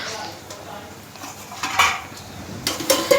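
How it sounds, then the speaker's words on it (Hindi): Chopped tomatoes tipped into a pan of frying onions in a home kitchen, with a few close clanks of a utensil against the pan and a soft sizzle that grows toward the end. "यहाँ पर डाल दिया मैंने टमाटर।"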